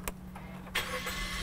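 Suzuki Grand Vitara engine cranking briefly and catching, then settling into a smooth, quiet idle heard from inside the car, with a couple of small clicks before the start.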